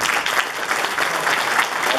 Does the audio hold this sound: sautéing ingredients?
no